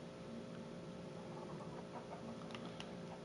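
Chickens clucking in the Minecraft video game, a steady low game-audio bed with a few short clucks near the end, fairly faint and with no talking.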